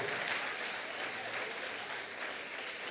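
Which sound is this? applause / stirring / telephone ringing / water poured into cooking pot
applause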